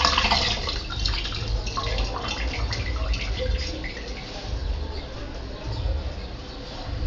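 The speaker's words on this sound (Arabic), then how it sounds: "هعمل معاكم واحده تاني، بس اغسل ايدي الاول بس من السكر." Hands being rinsed of sugar under a running tap, a steady close rushing of water with faint splashing throughout.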